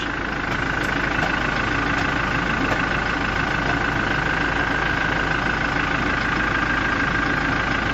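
Low-mileage diesel engine of a bank-repossessed car idling, a steady, even clatter with a faint knocking rhythm and a constant drone, close and loud throughout with no talking.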